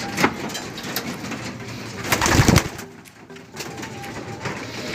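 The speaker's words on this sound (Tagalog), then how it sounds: "So ayan kalapatids." Breeder pigeons cooing in a loft, soft repeated throaty coos close by, with faint rustling and background noise.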